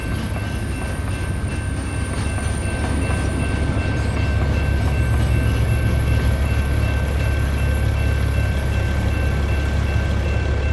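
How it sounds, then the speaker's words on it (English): A freight train rumbles past at close range, a steady heavy low roar with a faint high whine, continuous and loud for the whole stretch, heard from inside a truck cab. "Big boy train there."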